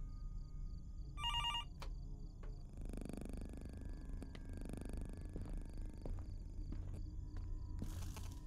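A telephone rings inside the horror video game Fears to Fathom: Norwood Hitchhike, in two short bursts, one early and one at the end, over a steady low ambient hum.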